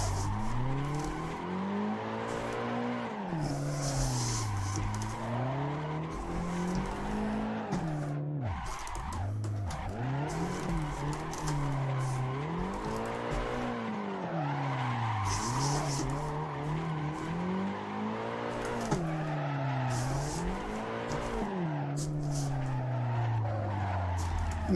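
A drifting car in Assetto Corsa holds long tire skids while the engine revs climb and fall in repeating sweeping arcs, with a steady screech throughout, loud and without talk.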